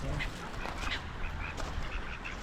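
Ducks quack repeatedly against a steady wash of outdoor background noise at Torcross near Slapton Ley on the South Devon coast, the calls fairly faint and scattered through the clip.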